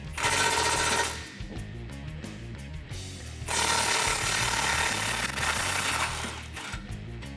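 Power tool with a 15 mm deep socket spinning off exhaust nuts on a 2019-2020 RAM 1500 5.7L, loud rattling bursts of rapid hammering impacts, stopping briefly then resuming, close by.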